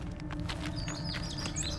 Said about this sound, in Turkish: Oo ne güzel kuş sesi lan.